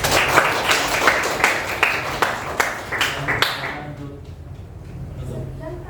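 Audience applause closing a group presentation, a dense run of claps for about three and a half seconds that then dies away into quiet murmur.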